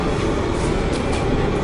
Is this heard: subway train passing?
yes